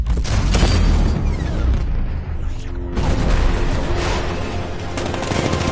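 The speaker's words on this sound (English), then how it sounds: "60mm cannon operational." A 60mm cannon firing in the Batman Returns video game, a dense, loud barrage of booming shots and blasts that runs continuously with rumbling noise.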